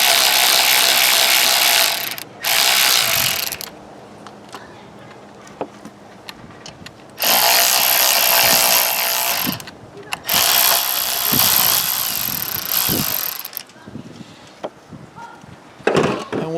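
A ratchet works bolts loose from the intake manifold of a Briggs & Stratton V-twin engine on a Craftsman YT4500 lawn tractor, heard as four loud runs of rapid clicking with short pauses between them, then a few quieter clicks.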